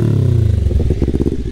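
A motorcycle engine revs up close and loud, a deep throbbing exhaust burble that rises and pulses through short throttle blips.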